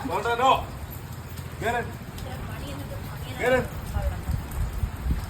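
Steady rain falls on a surface near a dog's home, a continuous hiss with a few scattered drops, while voices talk over it.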